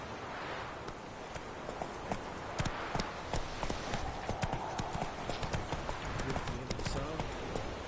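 Hooves of Roach, the horse in the video game Witcher 3: Wild Hunt, clip-clopping in a brisk continuous rhythm up close, with game ambience and some talk over it.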